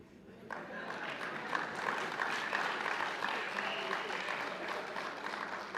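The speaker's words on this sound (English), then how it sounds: "and the applause is good" Applause from an audience at a teachers' training college closing ceremony, rising after a brief quiet start and continuing as a steady, moderately loud wash of clapping for several seconds.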